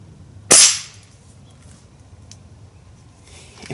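A Daisy 1101 break barrel spring air rifle fires once, a single sharp close crack with a brief metallic twang as the spring releases, followed by quiet.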